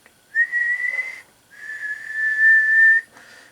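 A person whistles into a CB radio microphone on a bench setup with a Blackcat JB-76B two-tube base. Two loud, steady sustained tones follow each other, then a brief fainter third note, with no talking.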